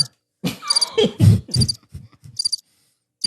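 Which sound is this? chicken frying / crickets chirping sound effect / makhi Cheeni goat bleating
crickets chirping sound effect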